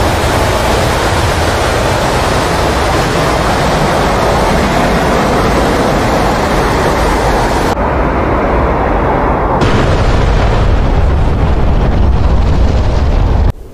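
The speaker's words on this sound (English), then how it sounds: "So it dropped all of my bombs basically at once." Several bombs dropped at once from an Su-25T Frogfoot attack jet in DCS World burst together in a loud, sustained roar of explosions. A continuous wall of rumbling noise fills the whole span and cuts off abruptly at the end.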